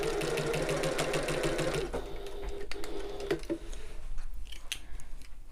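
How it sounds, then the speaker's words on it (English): A sewing machine stitches a seam on a shoulder bag, running in a steady, rapid mechanical patter for about two seconds, then slowing into scattered clicks and soft handling noises as it stops. "we're just sewing all the way to the top using that tapered seam allowance"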